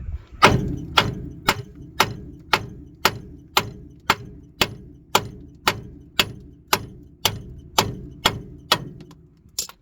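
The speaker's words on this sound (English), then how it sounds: "Now you can hit this with a hammer right here." Sharp metallic hammer blows on a car's ball joint, about fifteen of them, struck at a steady, even pace, each ringing briefly before the next.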